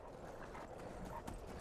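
Horse hooves clopping steadily in Skyrim, a continuous close patter of footfalls over a dense game soundscape, with no talk.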